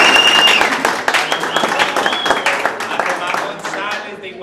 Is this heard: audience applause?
yes